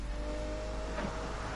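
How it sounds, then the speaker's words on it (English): A race car engine in a racing video game hums steadily with a sustained drone throughout, a continuous mid-level roar with no distinct revving peaks, heard alone without talk. "this is basically a race car"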